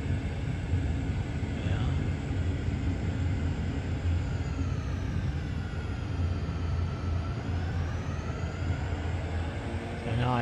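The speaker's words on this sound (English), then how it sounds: "It is a nice aircraft to fly. Pilatus PC6." A Pilatus PC-6 single-engine aircraft landing at Dunkeswell Aerodrome, its engine a loud, steady droning roar heard from inside, with a slowly shifting tone throughout and no talking.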